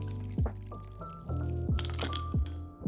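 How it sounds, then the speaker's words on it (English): A Bee's Penicillin cocktail is fine strained into a coupe glass, with soft dripping and trickling liquid sounds, close and quiet, alongside a few brief tonal notes. "Fine strain in our coupe glass."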